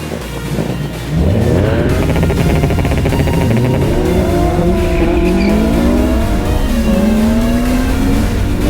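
Early-1990s Stannic Group N touring cars, including Opel Superboss models, race at Dezzi Raceway in KZN. Several engines rise and fall loudly as they accelerate and shift, with a brief tyre squeal, and the noise stays continuous and close throughout.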